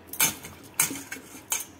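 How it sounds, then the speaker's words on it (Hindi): Cut bottle gourd pieces dropped into a metal pressure cooker, three sharp clattering knocks spaced about half a second apart, close and clear with no talk. "अब ये कुकर है तो इसमें लौकी डाल देंगे"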